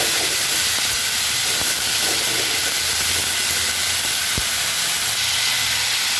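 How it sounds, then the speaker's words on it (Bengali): Bottle gourd leaves frying in mustard oil in a pan, giving a steady, loud hiss and sizzle throughout with a few faint clicks and no talking. "এবার লাউ পাতাটাকে ভালো করে ফ্রাই করে নেব।"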